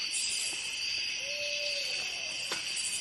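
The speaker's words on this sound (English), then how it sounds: "It's just all owls, and we're gonna play some actual owl calls that you can listen to." An owl call plays from a recording as a single soft, drawn-out tonal hoot, with a faint click or two, over a steady high insect-like hiss.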